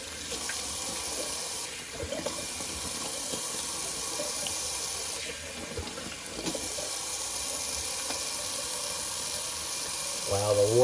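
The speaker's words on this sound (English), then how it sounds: "Just clean up my sink a little bit, little cold water rinse." A bathroom sink tap runs cold water for a rinse, a steady rushing stream that carries on the whole time, with a voice speaking faintly beneath it near the end.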